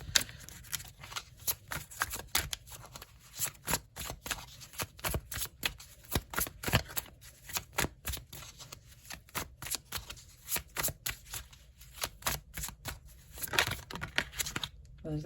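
Tarot cards being shuffled in the hands, a dense run of quick papery riffles and slaps that carries on steadily close up for the whole stretch with no talking.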